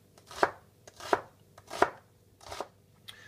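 A kitchen knife chops through an onion on a cutting board with four crisp, evenly spaced strikes, close and clear with no talking.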